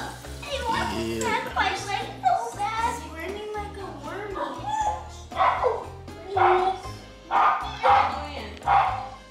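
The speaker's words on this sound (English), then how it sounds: "Go let your dog in because he keeps barking." A dog outside a family home barks repeatedly in short bursts over several seconds, sometimes yipping, mixed with children's voices talking and playing nearby.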